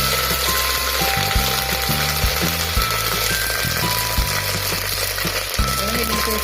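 Ginger garlic paste sizzles and fries in a pan for chicken biryani, a steady loud hiss with scattered crackles and occasional stirring clatter.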